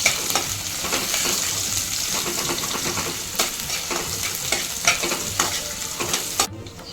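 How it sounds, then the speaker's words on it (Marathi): Chopped onion with curry leaves and green chili frying in a pan, giving a steady close sizzle with scraping spoon strokes throughout that cut off abruptly at the end. "आपला आता कांदा आणि फ्राय झाला आहे"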